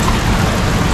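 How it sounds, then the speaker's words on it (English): Heavy, steady rain pours over a homestead during a small storm, a dense, unbroken hiss filling the whole moment with no voices. "it's just a nice, heavy, peaceful rain"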